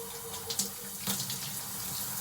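Tap water runs steadily into a salon sink while hair is rinsed, a continuous close splashing flow with a few brief spatters and no talking.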